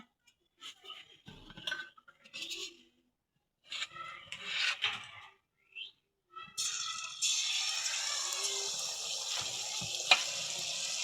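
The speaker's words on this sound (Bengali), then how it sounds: "দেখেন আমার কিন্তু প্রত্যেকটা পিঠা ফুলতেছে এরকম করে পিঠাগুলো ভাইজে নেই" Tel pitha, date molasses cakes, frying in hot oil, a steady broadband sizzle that starts partway through and continues loudly after earlier scattered handling and scraping noises.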